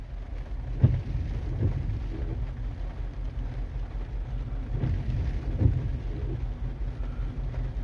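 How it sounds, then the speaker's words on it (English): Steady rain falls outdoors around a locomotive, a dull continuous wash mixed with low wind rumble and a couple of soft thumps, with no one speaking. "It has not stopped raining either."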